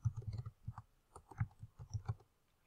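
Fingers type on a computer keyboard, a quiet and uneven run of soft clicks in short bursts with brief pauses, close and alone.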